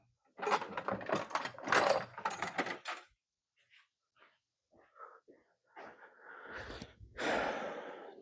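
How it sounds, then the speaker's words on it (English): A socket wrench ratchets on an eight millimeter bolt during the teardown of a 1999 Honda Valkyrie Interstate motorcycle: dense, rapid clicking bursts up close for a few seconds, then scattered faint ticks and a final louder rattling run. "Just kidding, we're gonna make this socket work."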